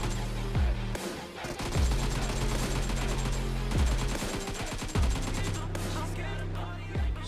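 Rapid automatic gunfire rattles in repeated bursts during a PUBG Mobile match, with sharp cracks and a few louder single shots spread across the clip, loud and close.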